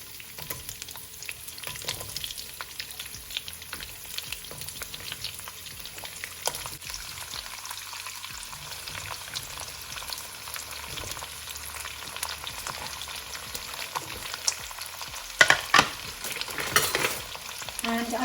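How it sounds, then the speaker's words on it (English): Onions and cumin seeds frying in hot oil, a steady soft crackling sizzle that continues throughout, with occasional stirring scrapes and a few louder clatters near the end. "I'm going to add a teaspoon of cumin seeds and let them sizzle. And then goes in our onions."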